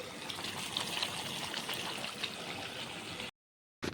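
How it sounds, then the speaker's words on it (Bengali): Water is poured into a pan of potatoes and chicken as they cook down, giving a steady soft trickling and bubbling hiss for about three seconds before it cuts off abruptly, with no talking. "অল্প একটুখানি জল দিয়ে আমি আলু আর মাংসটাকে ভালো করে কষিয়ে নেব"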